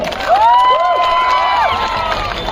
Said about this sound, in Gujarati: આ તમે જુઓ જોરદાર તાળી થઈ જાય પાટડી પોલીસ માટે